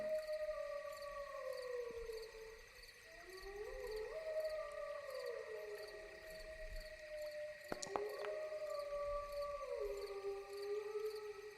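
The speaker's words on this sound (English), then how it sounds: "the howling of the wolves stops" Wolves howl in long, rising and falling tones that overlap and trail off, set against a steady ambient bed with faint insect-like chirring and a couple of sharp clicks.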